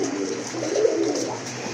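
A snake-eyed male pigeon coos softly, low and rolling, close by. Steady background hiss, no talking.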